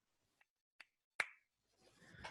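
Three separate sharp hand claps, each louder than the last, spaced evenly and close by in a quiet room during a Feed the Kraken board game, followed by soft rustling.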